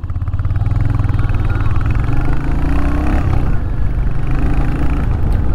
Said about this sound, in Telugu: ఎగ్జాస్ట్ సౌండ్ అయితే కొద్దిగా లౌడ్ వస్తూ ఉంది.